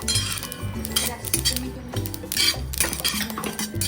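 A spoon stirs sesame seeds roasting in a pan for a methi bhaji recipe, giving steady scraping and clinking of metal against the pan throughout, with light rustling of the seeds.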